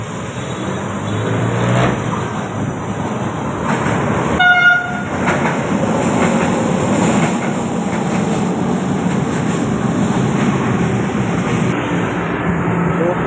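An LRT light rail train rumbles into Tayuman station close by with a steady, loud roar and a high metallic whine. A short horn-like tone sounds partway through, and faint voices can be heard underneath.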